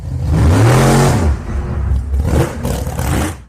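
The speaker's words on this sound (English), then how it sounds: "Finn turns the key and the big block V8 engine roars to life" Big block V8 of a 1973 Pontiac Trans Am roars loud and close, rising sharply in pitch in the first second, then holding a heavy, rumbling, revving drone that cuts off near the end.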